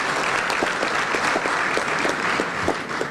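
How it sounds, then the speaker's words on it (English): A conference audience applauds a pastor with a dense, sustained round of clapping that stays steady and fairly loud throughout, with no talk over it. "shall we give the pastor a round of applause instead of an amen?"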